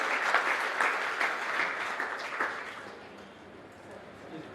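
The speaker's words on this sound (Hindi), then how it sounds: "जोरदार तालियां बच्चों" A crowd of schoolchildren claps together at a school event, loud at first and gradually fading away over a few seconds.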